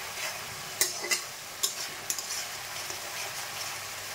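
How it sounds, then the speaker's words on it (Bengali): Spice paste frying in oil gives a continuous moderate sizzle, broken by a few sharp scraping clicks from a spoon stirring it, with the scraping thinning out toward the end. "এখানে মশলা কিন্তু ভালো মতোই কষে গেছে।"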